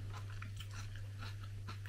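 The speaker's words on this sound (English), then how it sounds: "A nice crunchy onion" Close, soft crunching bites into a fried onion at a chip shop, repeating every half second or so, over a steady low electrical hum.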